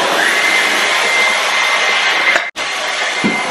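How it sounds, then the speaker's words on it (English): A vacuum cleaner whirs loudly and steadily, cutting out for an instant before resuming its constant drone. "Here's our current ugly vacuum cleaner that Mai hates."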